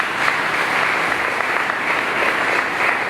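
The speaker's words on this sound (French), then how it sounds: "Je vous invite à applaudir les témoins s'il vous plaît." Steady, dense applause from an audience at a 2025 Haiti graduation commencement for a faith ministry, loud and continuous with no voices over it for the full few seconds.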